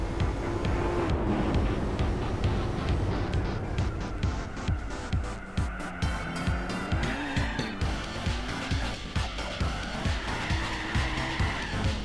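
A Buick drifting in Gran Turismo 4, engine droning steadily while tires squeal and skid in repeated pulses through the turns, loud and close without talk.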